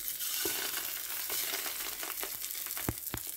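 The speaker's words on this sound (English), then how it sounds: "Give a nice sizzle here." Johnsonville bacon cheddar brats sizzle in a pan sprayed with cooking spray, a soft steady frying hiss broken by a few sharp crackles and pops near the end, with no talking.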